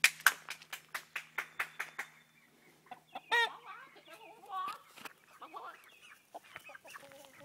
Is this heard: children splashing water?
no